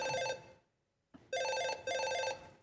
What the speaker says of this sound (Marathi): काय रिंगटोन ठेवले ही फोनची.